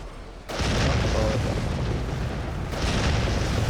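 A cruise missile strike in the strategy game ICBM, heard as a sudden heavy boom that swells into a sustained, rumbling roar, loud and near.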